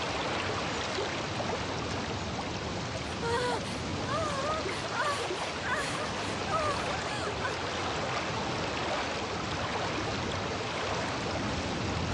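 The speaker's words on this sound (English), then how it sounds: "The waterfall!" A continuous broadband rush of falling water, as from a waterfall in a cartoon setting, with faint tonal calls or chirps drifting over the steady roar.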